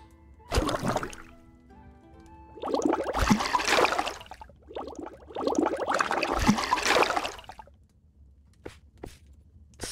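Water poured and sloshed from a bucket in the medieval tavern game Ale & Tale Tavern, several splashing, trickling bursts of moderate loudness separated by short pauses, with faint drips in between.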